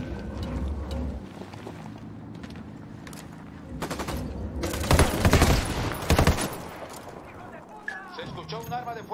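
Gunfire in the video game Ghost Recon Wildlands: rapid automatic bursts and heavy shots, loud and close, over a rumbling game backdrop with a voice speaking over parts of it.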